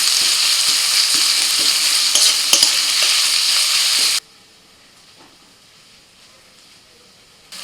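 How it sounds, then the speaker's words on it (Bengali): Chopped onions sizzle loudly in a little mustard oil with steady hissing and stirring for about four seconds, then the sound drops away to near quiet. "খুব অল্প করে একটু সরষের তেল দিয়ে দিয়েছি, দিয়ে দিচ্ছি পেঁয়াজ কুচি।"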